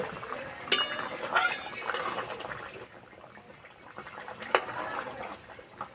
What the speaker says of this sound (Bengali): চাপাটা খুলে দেব।